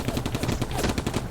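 Heavy enemy gunfire in Combat Mission: Afrika Corps, a rapid, dense rattle of overlapping shots fired in quick bursts, loud and continuous throughout.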